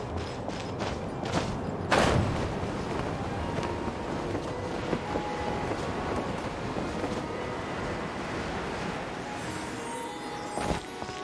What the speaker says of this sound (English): Let's ride this wind current, shall we?